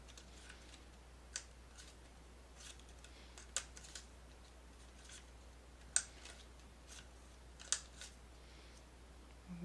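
Scissors snip paper to round the corners of an altered tin, a handful of faint, sharp, widely spaced cuts over quiet room hum.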